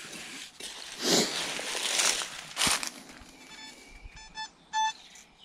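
Rustling soil and handling noises in a forest give way to several short, clear electronic beeps from a metal detector pinpointer as it closes in on a buried target.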